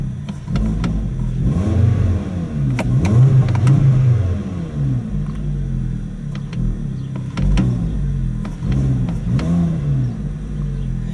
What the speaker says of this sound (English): I guess I can rev it a little now